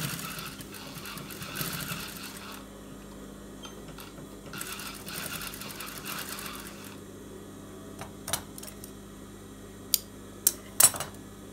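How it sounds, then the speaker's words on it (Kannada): A sewing machine stitches piping onto a blouse in two bursts of rapid mechanical whirring and clatter, close and moderately loud, followed by a quieter stretch of fabric handling with a few sharp clicks near the end, no talking. "ಈ ತರ ಇಟ್ಕೊಂಡು ಸ್ಟಿಚ್ ಮಾಡಿ ಮುಗಿತು"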